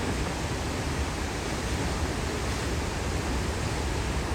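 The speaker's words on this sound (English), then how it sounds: "waterfalls" Small waterfalls trickle out of a hillside along an Oregon overland route, making a steady, even rush of falling water that stays close and constant throughout with no voices.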